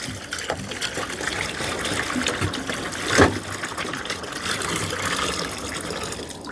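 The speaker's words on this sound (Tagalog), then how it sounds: "saka natin lalagyan ng tubig" Water gushes steadily into a container, a continuous close splashing pour with a brief louder splash midway.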